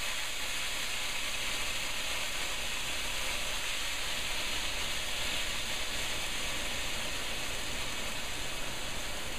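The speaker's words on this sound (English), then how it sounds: "I just get some wine, like Madeira or Marsala, and then just sort of cover the pan. It'll sizzle a bit." Steady, loud hiss fills the whole stretch without a break, Madeira or Marsala wine sizzling hard in a hot pan.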